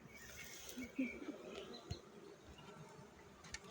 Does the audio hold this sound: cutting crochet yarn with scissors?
no